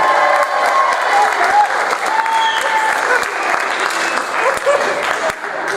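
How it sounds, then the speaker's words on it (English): A live-show audience gives a loud round of applause to comedian Johnny Eves at the 2013 Big Show. The clapping is thick and continuous for several seconds, with scattered cheers, before easing off at the end. "Give him another round of applause"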